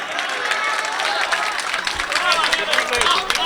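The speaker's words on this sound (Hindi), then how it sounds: "एक मर्तबा जोरदार तालियां बजा दीजिए" Dense clapping from the audience at a mushaira, an Urdu poetry gathering in Sanawad, fills the space, a steady wash of many hands mixed with crowd murmur, loud and close throughout.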